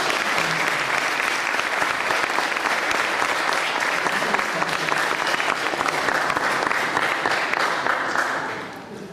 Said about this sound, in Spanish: Por favor, un aplauso para Moncha.